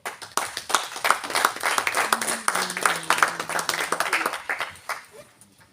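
Applause at a town council meeting, a modest group of hands clapping in uneven bursts that swell and thin out, with a brief voice briefly audible in the middle before the clapping tapers off.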